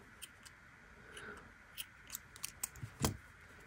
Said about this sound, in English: we can cut this yarn and also the yarn tail